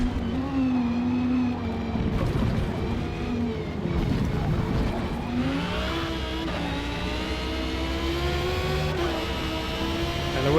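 A BMW M1 race car on worn tires in the video game Forza Motorsport revs loudly and steadily, its engine note climbing and dropping through gear changes, with a voice speaking briefly over it.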